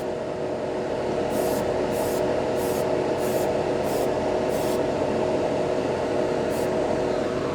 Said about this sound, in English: Big difference in performance as far as airbrushing goes